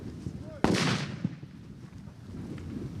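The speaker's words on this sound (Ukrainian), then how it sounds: "І, звісно, вибухи навчальних гранат." A training grenade goes off once during a military endurance drill, a sharp loud burst followed by a rumbling tail about a second long, then fading into outdoor background noise.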